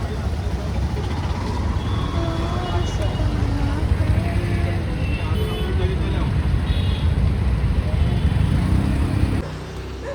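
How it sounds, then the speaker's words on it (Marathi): Heavy road traffic in Kamthi: a continuous dense rumble of cars, buses and trucks with passing engines and occasional horn tones, loud and close throughout, with talk mixed in. "बहुत जास्त ट्रॅफिक आहे वाटते"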